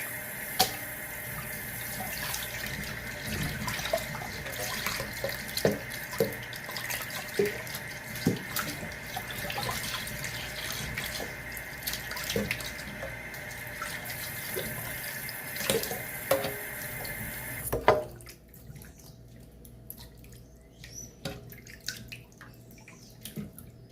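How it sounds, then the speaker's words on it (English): Running tap water pours steadily into a kitchen sink as pork is rinsed in a bowl, a continuous splashing rush with small clatters for about eighteen seconds before the flow stops and only quiet drips remain. "So I'll give it a final rinse."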